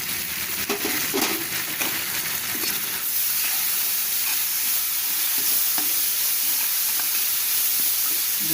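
Whole spices with asafoetida, nigella seeds, turmeric and salt roasting in a pan for spicy mango pickle, a steady loud sizzle and crackle with stirring scrapes throughout, no talk.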